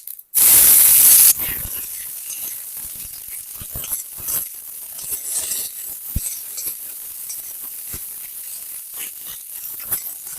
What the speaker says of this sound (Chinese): 我们再倒油， 加入蒜， 然后加入辣椒，